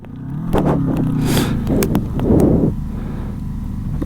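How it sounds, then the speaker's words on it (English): A Komaki electric cruiser motorcycle skids under hard braking from speed, producing a rough, noisy scrubbing burst over steady wind and road rumble, loud and close, with no voice. "That was just the bike skidding"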